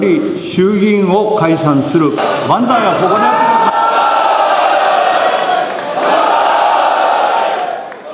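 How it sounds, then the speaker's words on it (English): Japanese parliamentarians in the chamber shouting and cheering as the Speaker announces the House is dissolved, a loud swelling roar of many voices with individual shouts rising above the crowd. "Parliamentarians cheering Japanese Speaker's announcement of dissolving the House."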